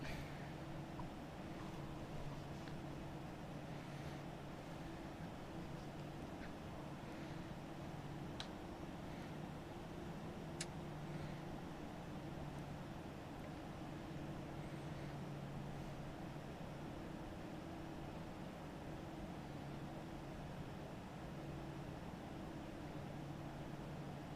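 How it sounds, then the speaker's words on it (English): Airliner engines idling at the stand in Microsoft Flight Simulator X, a steady low drone with a constant hum running evenly throughout, with no talking. "Are we ready to turn the engines off?"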